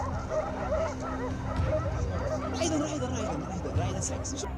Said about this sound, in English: Suddenly, the dogs chase a massive hog out of the bushes,